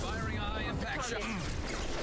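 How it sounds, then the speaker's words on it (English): A high-impact shot fires in a space video game, a sweeping, rumbling energy blast with wavering tones that fade out, heard over a voice talking. "Firing a high impact shot."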